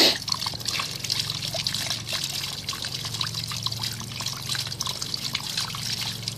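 Water swirling and trickling inside a homebrew pot as it is whirlpooled during a brew day, a steady close wash of liquid movement with soft splashing throughout.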